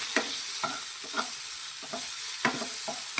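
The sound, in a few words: spices frying in pan with kasuri methi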